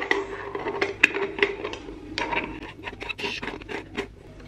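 A stovetop coffee maker's metal top is screwed on with scraping, rasping metal-on-metal turns and small clinks, close and fairly quiet, with no talking.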